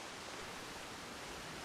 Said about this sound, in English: they would come back over here and see our waterfalls